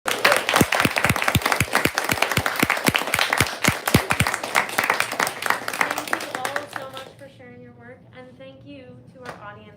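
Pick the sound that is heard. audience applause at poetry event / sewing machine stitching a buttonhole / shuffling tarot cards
audience applause at poetry event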